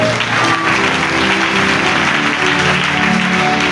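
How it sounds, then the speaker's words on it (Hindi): A church congregation at a Sunday prayer meeting claps together in loud, sustained applause that fills the room evenly from start to finish. "आगे लाइट ताली बजाइए।"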